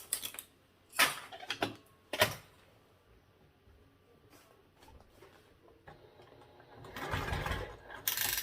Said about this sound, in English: we'll go ahead and top stitch that side